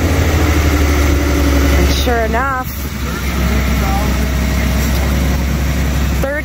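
A 1978 Ford Pinto Cruising Wagon engine, a junkyard donor car, idles with a steady low rumble close by. Someone talks over it briefly.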